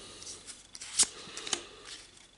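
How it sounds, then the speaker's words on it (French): Pokémon trading cards from a Sword and Shield Rebel Clash tripack being sorted by hand, giving soft papery slides and a few sharper card snaps, two brief louder flicks standing out over quiet rustling, close by with no talk. "on va faire un petit tri sur les 4 dernières cartes qu'on va mettre devant"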